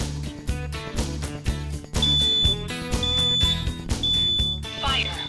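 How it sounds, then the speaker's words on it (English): A combined carbon monoxide and smoke detector being tested in a renovated house gives a piercing high electronic alarm tone in several repeated bursts, close and loud over steady background music. "So this is carbon monoxide and smoke detector."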